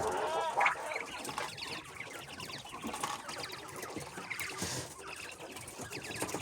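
Texas and tuxedo quail chirp and call continuously in their enclosure, a busy, close chorus of overlapping bird calls with louder bursts near the start and around the middle, no talking.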